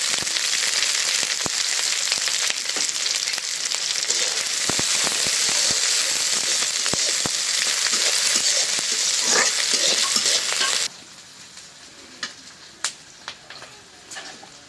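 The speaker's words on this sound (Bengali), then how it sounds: "এটা গরম হয়ে গেছে দিয়ে দিলাম সোয়াবিন তেল দিয়ে দিলাম পেঁয়াজ মরিচ" Onions and chili frying in hot soybean oil, a loud dense close sizzle with crackling pops that suddenly drops to a much quieter hiss with a few sharp spits near the end.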